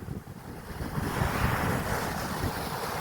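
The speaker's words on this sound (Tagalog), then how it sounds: "Lakas ng alon." Strong ocean waves at high tide on Caba Beach in La Union, Philippines, a rushing surf swell that builds and holds, mixed with wind buffeting the microphone.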